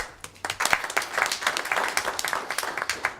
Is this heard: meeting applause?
yes